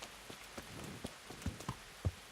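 Rain patters in the medieval video game Kingdom Come: Deliverance, a soft steady hiss broken by several heavier drops or thumps at irregular intervals, fairly faint overall.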